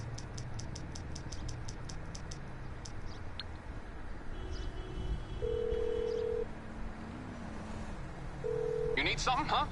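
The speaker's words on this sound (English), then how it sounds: "you call your mechanic from your phone" Phone dialing in a video game about calling a mechanic, with quick beeping tones in a short rapid series, then sustained electronic tones and chirps over a low hum.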